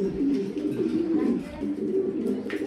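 Pigeons in a breeding loft, an Afsan grizzle master pair, give low rolling coos close by, near-continuous across the clip, with faint background murmur.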